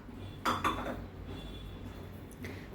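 Metal utensils clink against a bowl while potato and paneer kachori filling is mixed, two sharp clinks near the start and a lighter tap later, close by in a quiet kitchen.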